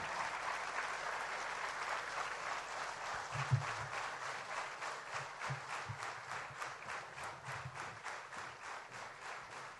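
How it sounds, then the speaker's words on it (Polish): An audience applauds as a choir leaves the stage, with sustained, even clapping that settles into a loose rhythmic beat, heard at a distance and fairly quietly. "szarotki schodzą ze sceny, ale brawa nie milkną"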